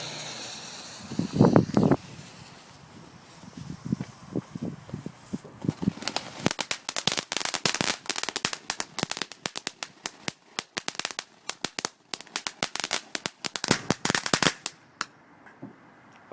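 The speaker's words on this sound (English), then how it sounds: "Crackling glitter sparkle." Crackling glitter sparkle fireworks going off on Bonfire Night: a few low pops and bursts come first, then a long, dense stretch of sharp crackling and fizzing that gradually thins out and stops.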